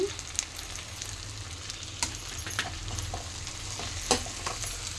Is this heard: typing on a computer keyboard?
no